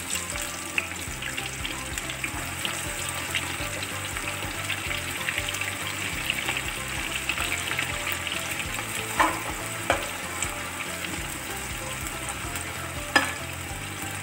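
Sliced onions deep-frying in hot oil for Egyptian koshari, a steady dense sizzle and crackle running throughout, close and fairly loud, with a few brief clinks near the end and no talking.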